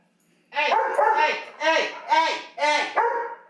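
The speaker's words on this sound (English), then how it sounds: "I have dogs going crazy." Several dogs bark at night in a run of five loud, close barks, each a few tenths of a second long and spaced about half a second apart. The barks start after a brief quiet lead-in.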